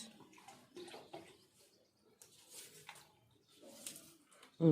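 Water is poured onto a plant, a soft, intermittent splashing and trickling that comes in a few short bursts, faint and close.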